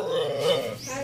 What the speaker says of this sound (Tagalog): Aso nyo yan?